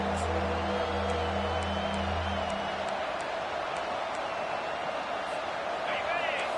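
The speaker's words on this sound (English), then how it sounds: "the home crowd going absolutely bananas" Home crowd roaring at a college football stadium during a third-down defensive stand, a dense sustained wall of cheering and whoops with a commentator's voice running over it.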